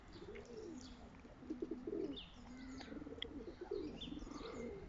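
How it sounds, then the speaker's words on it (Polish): Several pigeons coo softly and repeatedly, overlapping murmurs with occasional chirps, at moderate distance with a faint background hiss. "Gołębie."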